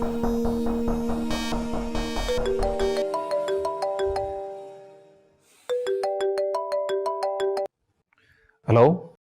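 An electronic ringtone plays a repeating melodic pattern, pauses, then resumes, before a brief voice is heard at the end.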